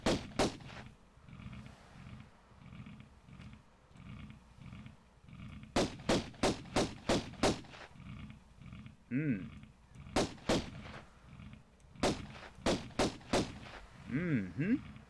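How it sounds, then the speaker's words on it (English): Sharp gunshots from the Tomb Raider video game crack out in quick clusters of three to five, separated by pauses filled with low rumbling ambience and an occasional growling creature sound. "You stop shooting it now, Lara."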